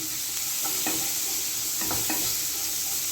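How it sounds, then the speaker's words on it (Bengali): Sliced capsicum and green chilies sizzle steadily in a hot pan while being stirred, with a few soft scrapes and clinks of the spatula over the continuous frying hiss. "ক্যাপসিকামগুলো খুব বেশি ভাজাভাজি করব না"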